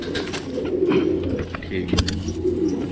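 A Kabra pigeon with a 68-ring mark coos steadily as it is taken out of the loft, a low rolling call close by, while someone talks over it.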